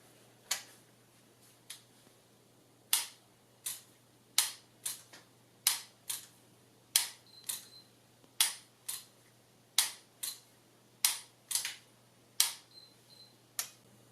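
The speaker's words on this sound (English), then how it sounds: "You can actually get in a pretty good rhythm of resetting the hammer in between shots." Sharp hammer clicks from a single action revolver dry firing with a laser training cartridge, about seventeen evenly spaced metallic snaps in a steady rhythm, close and alone with no talk.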